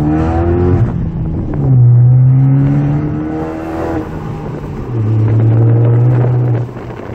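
A turbocharged Ford Focus ST engine revving up hard through the gears, rising in pitch with each pull, loud and close from inside the car.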